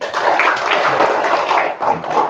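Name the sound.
classroom children clapping hands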